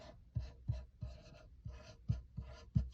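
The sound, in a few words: drawing a music staff on printer paper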